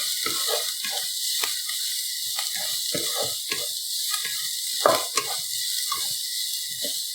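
Onions sautéing in a pan for brinjal gotsu, a soft steady sizzle broken by repeated scraping stir strokes at a moderate distance.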